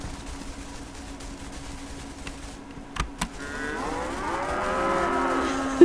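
A white cow mooing in the video game Everything: a few clicks and taps, then one long, rising, close moo swelling over the last few seconds.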